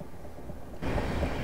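A Southeastern Class 375 electric train passes in Train Simulator Classic on the London to Ramsgate route, a broad steady rumble that swells suddenly louder midway and holds as the train goes by close.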